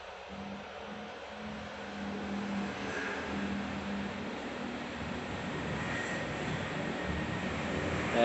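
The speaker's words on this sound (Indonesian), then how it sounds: "Kalaupun kalian dengar suara ngeri, itu suara kipas ini." A steady whooshing amplifier cooling fan hum runs continuously, fairly loud, swelling slightly toward the end with no other sounds.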